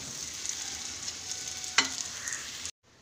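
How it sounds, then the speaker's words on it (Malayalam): Beef fries in coconut oil in a Kerala-style pan, giving a steady close hiss of sizzling with one sharp spatula scrape, then it cuts to silence at the end. "ഇനി ഇതിലേക്ക് നമുക്ക് കുറച്ചും കൂടെ വെളിച്ചെണ്ണ ഒഴിച്ചു കൊടുത്തിട്ട് ഒന്ന് ഫ്രൈ ചെയ്ത് എടുക്കാം."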